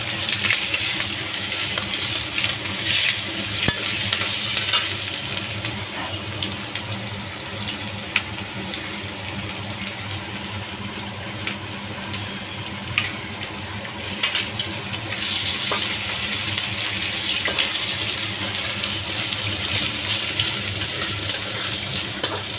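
Onions going into hot oil in a pan just used for frying fish for a Pangas fish curry, giving a steady, close sizzle and bubbling hiss with occasional stirring clinks throughout, with no talking.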